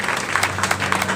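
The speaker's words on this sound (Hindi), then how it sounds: "सभी लोग एक बार खड़े होकर तालियां बजा सकते हैं" Steady audience applause, a dense patter of many hands clapping, moderately loud and continuous.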